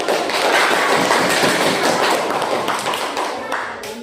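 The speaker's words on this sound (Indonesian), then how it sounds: "Tepuk tangan dulu." Applause from a classroom group before a student presentation, a dense burst of many hands clapping that gradually thins out and fades over about four seconds.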